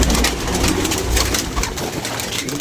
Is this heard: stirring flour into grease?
no